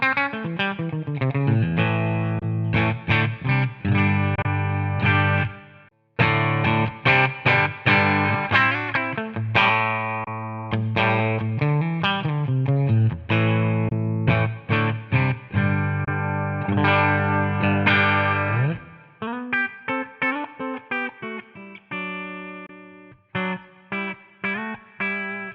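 Electric guitar played through a Tonex compressor and a 2 Stone SS Ultimate pedal with gain set high, loud distorted chords and riffs with short pauses, alone without talk.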